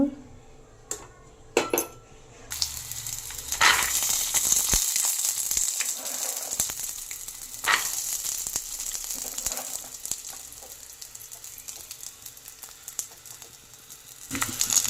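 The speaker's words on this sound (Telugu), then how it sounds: "ఆయిల్ హీట్ అయింది. ఇప్పుడు ఇందులో పచ్చిమిర్చి వేస్తున్నాను" Green chilies dropped into hot oil for a peanut chutney fry with a loud, steady sizzle and a few clinks of a utensil against the pan, continuing for several seconds.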